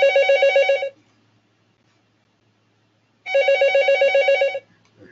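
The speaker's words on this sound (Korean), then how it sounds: "네, 전화가 왔네요." Telephone ringing during a classroom lecture: two loud, trilling bell-like ring bursts about three seconds apart, each roughly a second long, with silence between and no talk.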